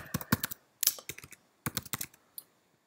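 Typing a search term on a computer keyboard: bursts of quick, crisp key clicks in three short runs with pauses between, close and fairly quiet.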